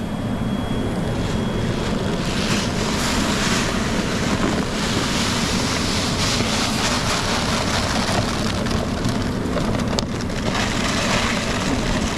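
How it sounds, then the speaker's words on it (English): Rice fried in olive oil over very high heat, a loud, dense, continuous sizzle and crackle heard up close, with no speech. "I'm going to quickly fry off the rice in olive oil on a very high heat"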